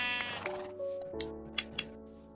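A sheep in the Minecraft video game bleats in short, wavering calls, heard clearly over quiet game ambience with a couple of soft clicks near the end.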